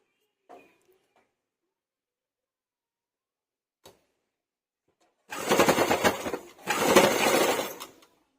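A sewing machine stitches folds on a blouse back design in two rapid, steady runs of a few seconds each, close and fairly loud after near silence with a couple of soft handling clicks.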